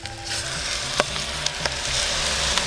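Cider poured into a hot pan on a grill hisses in a steady, broad sizzle with occasional sharp crackles and pops, close and continuous with no talking.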